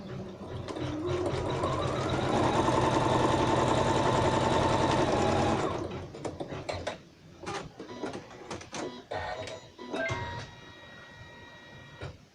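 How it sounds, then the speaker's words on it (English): A sewing machine stitches down a fabric coaster, running with a steady mechanical whir for about six seconds before stopping, followed by scattered handling clicks and a little quiet background sound. "press start so it will stitch it down now"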